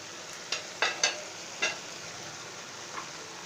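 Chicken koftas fry in curry gravy under a steady, quiet sizzle, while a few distinct scraping stirs of a spoon break through in the first couple of seconds.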